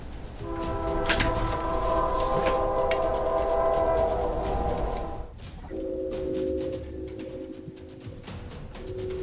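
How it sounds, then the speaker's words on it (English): A late night train passes on nearby tracks, sounding a long multi-tone horn over rumbling wheels, then a second lower horn blast follows as the rumble carries on. "this late night train is heard in all of his videos"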